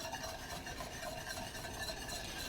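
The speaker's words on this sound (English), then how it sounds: "Keep whisking." Butter being whisked into a warm bourbon sauce off the heat, a continuous close rasping whisk against the pan, steady and even, with no talking.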